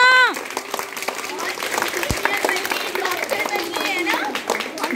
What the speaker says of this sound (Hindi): माधुरी मैम के लिए जोरदार तालियां हो जाए बच्चों